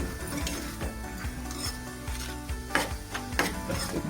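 Cluster beans (gavar) roasting in oil in a pan over a high gas flame, with a steady faint sizzle and repeated scraping stir strokes against the pan, close by and without speech.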